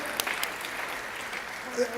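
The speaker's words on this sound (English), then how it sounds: "Big applause." An audience applauds at an interview talk with photographer Steve McCurry, a soft, diffuse patter of many hands that stays fairly faint and even, with a voice briefly heard over it.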